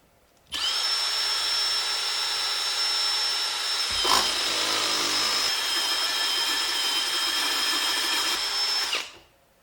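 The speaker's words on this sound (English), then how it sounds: "This is probably a lot of weight for a little handheld electric or battery powered drill to move, but we'll give it a go." An old handheld electric drill bores slowly through a pilot hole in wood, a loud, steady, close motor whine running for about eight seconds and then cutting off.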